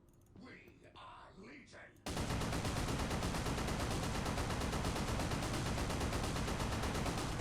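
Heavy bolter fire in the Men of War: Assault Squad video game, a loud, continuous roar of rapid shots that starts abruptly after a short stretch of quieter sound with a voice, then holds steady to the end.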